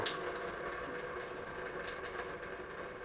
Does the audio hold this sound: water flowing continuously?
yes